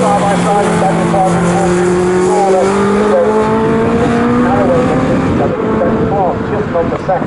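Legends race cars on the Snetterton circuit roar past together, engines droning loud and close with rising and falling pitch as they sweep by, while a commentator talks throughout.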